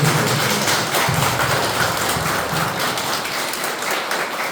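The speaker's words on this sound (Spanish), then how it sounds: "Vamos a brindarle un fuerte aplauso" Sustained applause from a congregation during a birthday Mass in a church, a dense patter of many hands clapping that stays fairly even throughout, with no talking.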